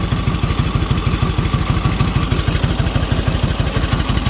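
A 1946 Indian Chief motorcycle engine idles low and steady, its loud, close exhaust thumping in an even, rapid loping beat with a metallic clatter, no talking over it.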